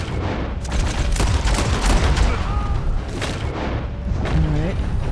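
Shootout in Red Dead Redemption 2 in Annesburg, with dense, loud bursts of gunfire and booming shots packed close together, mixed with a voice talking over the fight.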